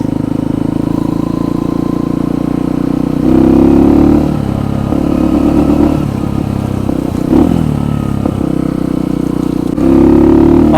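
A Kuba Race 125 motorcycle engine hums steadily and swells in a few throttle surges, close and fairly loud, with some mechanical clatter and no talk.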